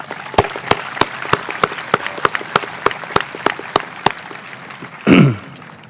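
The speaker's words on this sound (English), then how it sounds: "Please join me in recognizing them with a round of applause." At a 2021 high school commencement ceremony, sparse clapping rings out as a slow, evenly spaced series of about a dozen single claps, followed by a short vocal burst near the end.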